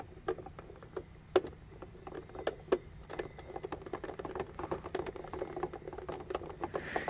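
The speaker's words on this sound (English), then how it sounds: "we should be able to get them off with a Phillips. And so I'm just going to go through and remove each of these." A Phillips screwdriver backs screws out of a Sony CFM-101 Sport cassette radio's plastic housing, giving quiet, close, irregular ticks and clicks that come in quick clusters, with no talking.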